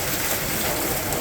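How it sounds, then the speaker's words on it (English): Hail falls steadily outdoors as a dense, even hiss of pattering impacts, loud and constant through the short stretch, with no voices. "It's hail."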